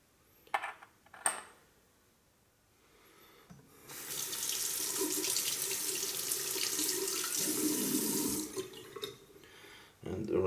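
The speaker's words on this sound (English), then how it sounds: "And rinse off the blade." Running tap water rinses a Rockwell 6S razor blade under a faucet, a steady close splashing stream of several seconds, with a few clinks of metal before and after.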